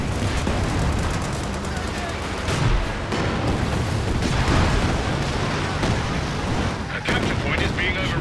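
Rockets and anti-tank guns fire in a Company of Heroes 2 battle, a dense continuous barrage of booming blasts and sharp gunfire with explosions throughout, loud and close.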